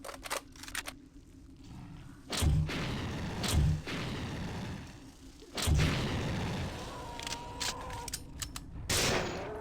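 Grenades explode in System Shock 2, three heavy booming blasts a few seconds apart, each followed by a crackling, debris-like decay. Quieter clicks and mechanical ambience fill the gaps between them.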